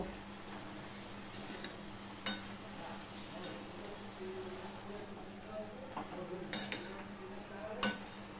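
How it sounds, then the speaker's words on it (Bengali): A utensil stirring leafy saag greens in a pan, with scraping and occasional sharp metallic clinks over a steady low sizzle, close by. "এবার আমি নেড়ে চেড়ে ঢেকে দেব।"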